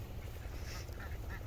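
Ducks on a duck farm quacking faintly in the distance, a few scattered calls over low background noise, with no speech.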